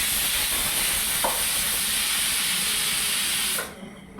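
A pressure cooker holding chana dal and potatoes for a vegetable curry vents a steady, loud hiss of steam for several seconds, then the steam cuts off abruptly near the end, leaving quiet kitchen clatter.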